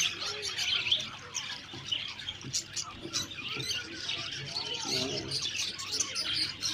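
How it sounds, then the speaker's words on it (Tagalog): Small birds chirp and tweet on and off throughout, a busy outdoor chorus at moderate distance with some low background noise. "Yung mga ibon. Yung ibon dito."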